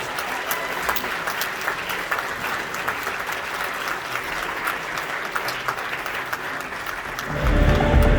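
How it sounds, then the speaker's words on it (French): An audience at a film festival screening applauds the film's director, a sustained dense wash of clapping from a packed hall that swells louder near the end. "on va faire un tonnerre d'applaudissements"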